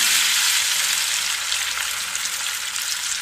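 Chak-chak dough pieces frying in hot oil in a pot, a steady, close, even sizzle and crackle with no voices, holding constant throughout.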